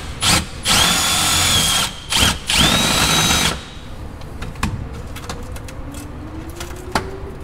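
A power drill bores a clean hole for a RAM truck LED emblem in several loud bursts of high-pitched whirring separated by short pauses. Quiet clicks and handling noises follow once the drilling ends.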